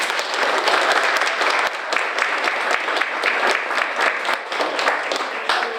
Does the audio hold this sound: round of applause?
yes